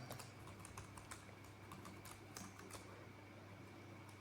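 Fast, steady typing of code on a computer keyboard, with crisp quiet key clicks under a low background hum and no voice.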